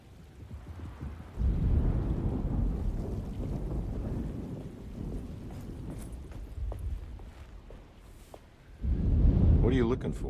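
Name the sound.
thunderstorm with rain in video game Alone In The Dark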